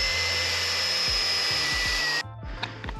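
A power drill bores through the floor of a Ford Transit camper van, a loud steady whine that cuts off abruptly, followed by a few faint knocks and clatters.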